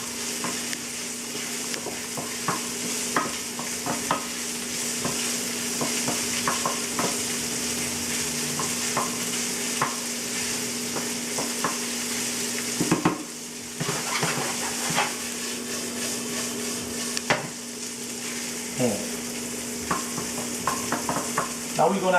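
Ham and onions fry steadily in a pan for fusilli pasta, a constant close sizzle with scattered scrapes and taps of stirring and a brief louder rustle midway.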